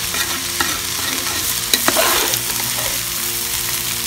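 Vegetable fried rice is tossed and stirred in a pan, a close sizzle with scraping spatula strokes and a few sharp clinks against the metal, with no voices.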